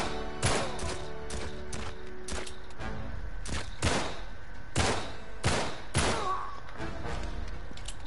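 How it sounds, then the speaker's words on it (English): Gunfire in a video game: loud, sharp shots in an uneven series of about a dozen bursts, some spaced apart and some close together, over a constant noisy background, with no talking. "They also have a machine gun"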